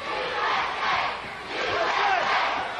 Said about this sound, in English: And this crowd going to get into the contest.